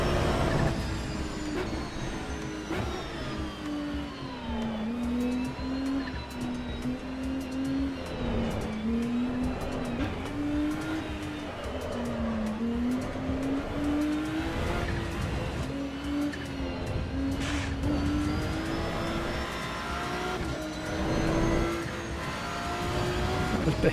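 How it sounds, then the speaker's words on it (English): A Ferrari race car in the Assetto Corsa EVO video game drives on, its engine a continuous loud drone that rises and dips in pitch as the car accelerates and eases off, with no talk over it. "I've only driven this Ferrari once before as well"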